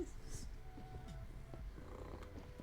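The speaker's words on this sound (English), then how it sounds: "He's purring." A cat purrs softly and steadily close by indoors, a faint low rumble that keeps going throughout.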